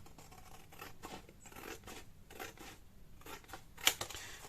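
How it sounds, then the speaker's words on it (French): Scissors snip through a sheet of stickers in a quick, close, quiet series of cuts, ending in one sharper snap near the end. No one speaks. "J'aurais bien envie de découper cette partie-là."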